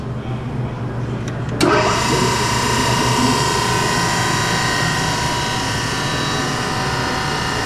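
Brown & Sharpe 618 Micromaster two-axis hydraulic surface grinder with a 1.5 horsepower cartridge spindle starts up with a sharp click, then settles into a steady, fairly loud whine and hum with a freshly repaired hydraulic pump running underneath.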